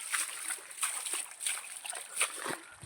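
Water splashes and sloshes in repeated bursts as freshly pulled groundnuts are washed outdoors on a farm, with a steady high hiss running underneath.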